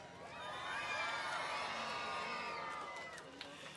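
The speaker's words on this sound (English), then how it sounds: "Big cheer." A big crowd of children and adults cheers and whoops at an outdoor Christmas tree lights switch-on in Antrim, a loud swelling roar that holds for several seconds before tailing off.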